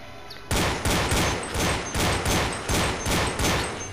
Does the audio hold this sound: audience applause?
no